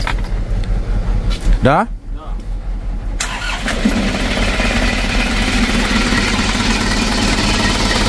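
Rebuilt Isuzu Traga engine cranked by the starter, catching and firing up, then settling into a steady, loud, close idle with a rhythmic low throb, with people talking briefly.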